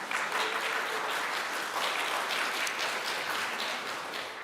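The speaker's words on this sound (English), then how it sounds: "you can just hold your applause till the very end" A Sunday service congregation applauds, with dense, steady clapping from many hands filling the room at moderate volume throughout, without any voices over it.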